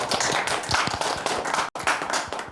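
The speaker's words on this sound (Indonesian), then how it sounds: "Tepuk tangan untuk Mas Dani." A crowd claps together in a dense, steady burst of applause, with a brief gap near the end before the clapping continues.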